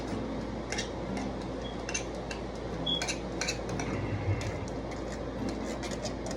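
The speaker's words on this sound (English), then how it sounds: "I'm gonna use the same spoon just to get the beans out of the can" A metal spoon scrapes and clinks against the inside of a can while scooping beans out for homemade chili, producing scattered short metallic taps and scrapes over a steady kitchen background hum.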